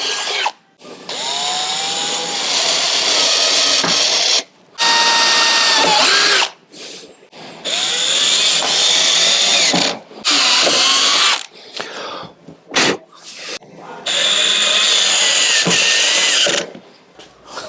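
A power drill on a light torque setting bores out fixings on a Land Rover Defender Safari rear door, running in several whining bursts of a few seconds each with short pauses in between, close and loud.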